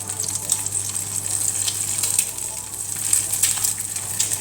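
An egg fries in a pan, giving a continuous crackling sizzle with small spitting pops over a low hum, close and steady, with nobody talking.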